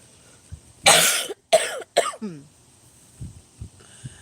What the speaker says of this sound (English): Y'all see me coughing? I got situational asthma.